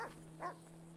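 A police K9 dog in the FiveM video game gives one faint, brief whimpering yelp, close by, against a low electronic hum.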